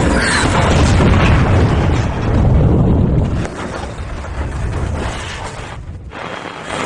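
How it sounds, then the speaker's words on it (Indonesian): A missile strike on a car: a heavy, roaring explosion blast rumbles loudly, then settles into a lower, crackling rumble of debris and fire. "mobil yang Frank kendarai langsung hancur oleh misil"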